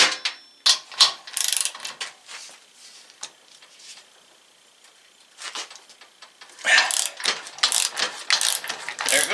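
An Avid Power 12V 3/8-inch cordless ratchet wrench loosening a fastener, giving bursts of sharp, fast mechanical ratcheting and whirring close up, with a quiet pause in between and a clattering burst at the end.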